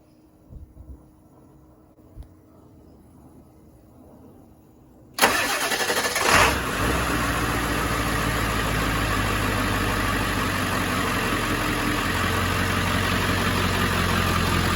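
An AdventureVan engine on new Odyssey Extreme batteries cranks briefly and catches, then settles into a steady, loud idle that drones on without pause after a quiet lead-in.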